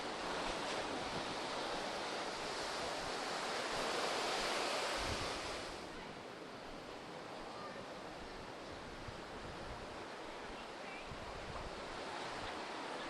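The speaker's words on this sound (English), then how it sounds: "Oh, big waves." Ocean surf at Caves Beach roars in a broad, steady wash of big waves, with gusts of wind buffeting the microphone; the surge eases slightly partway through.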